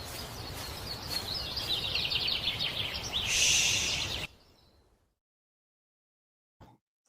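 A bird sings in a short recording with a bright, rapid run of chirps and trills over outdoor noise. It ends abruptly, followed by near silence and one brief faint click.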